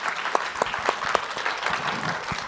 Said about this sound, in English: So shall we give a big round of applause to our guests?